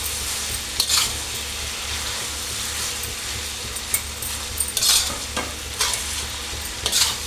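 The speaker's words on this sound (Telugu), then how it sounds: "అన్నీ వేసి బాగా టాస్ చేసుకోవాలి. హై పెట్టుకొని మంచిగా టాస్ చేసుకోవాలి." Vegetable noodles are tossed and stir-fried over high heat, making a loud continuous sizzle broken by repeated clattering scrapes and tosses, with no one speaking.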